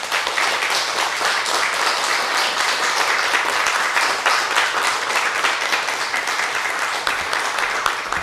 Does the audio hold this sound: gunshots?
no